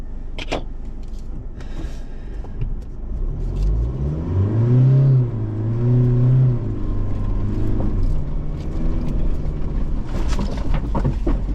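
A 4x4 vehicle's engine, in low range with the diff lock engaged, starts at a low idle, then revs hard in a rising and falling surge before easing back to a rumble.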